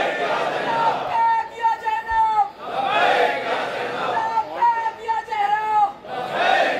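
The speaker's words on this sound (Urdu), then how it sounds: "ویسے ہی نعرے کا جواب دیں۔" A large crowd at a religious gathering chants slogans back in unison, loud rhythmic shouted phrases in repeated bursts with brief pauses between them, close and forceful throughout.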